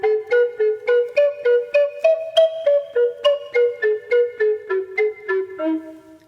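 A Native American flute plays about twenty short, detached staccato notes in an even, quick rhythm, each one a clean, breathy pitch that moves through a pentatonic scale and ends low. The notes are close and clear, with no talking.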